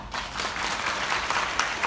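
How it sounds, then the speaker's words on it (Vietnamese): A crowd applauds steadily at a business startup competition final, dense continuous clapping filling the hall throughout. "chúng ta hãy cùng cho một tràng pháo tay thật lớn để bắt đầu với cuộc thi này"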